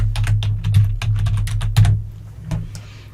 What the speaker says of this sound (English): I'm going to type in branding here